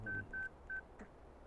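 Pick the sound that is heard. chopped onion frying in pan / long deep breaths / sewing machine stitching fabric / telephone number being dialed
telephone number being dialed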